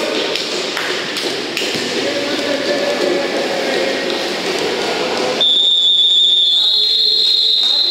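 A sharp, shrill referee's whistle sounds near the end of a water polo match in an echoing indoor pool, over loud crowd noise, shuffling and a shouting voice.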